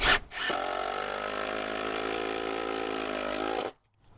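A power driver sinks a screw into a deck board over a joist, one steady motorized whir lasting about three seconds, loud and close, after a brief click at the start and stopping abruptly.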